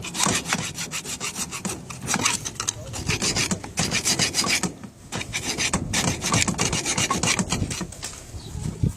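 A hand file scrapes burrs off a driveshaft universal joint yoke with steady, rhythmic back-and-forth strokes, close and continuous throughout.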